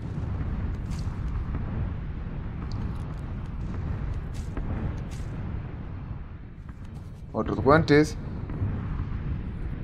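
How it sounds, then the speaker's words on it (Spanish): Bombardment explosions in PUBG: Battlegrounds, a sustained low rumbling roar with a louder burst near the end, heard under a man's speech. "Esas explosiones mágicas."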